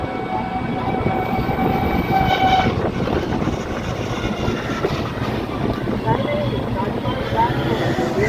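A train rolls from Howrah to Shalimar station alongside the Ganges, with a loud, continuous rumble, rattling wheels and a horn blast early on, while voices talk over the noise.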